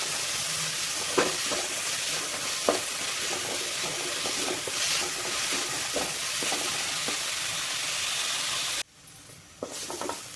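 Chopped vegetables frying in oil for a wheat bread sandwich, stirred steadily, with a continuous close sizzle broken by light scraping taps of the spoon; near the end the sizzle drops away to a quieter hiss with a few more clinks.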